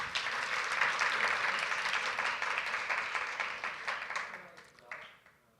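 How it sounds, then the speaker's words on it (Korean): Applause from the audience at a Korea University Changemakers Forum award ceremony, greeting an honorable-mention team; steady broadband clapping that holds for several seconds, then thins and fades out near the end. "박수 부탁드립니다."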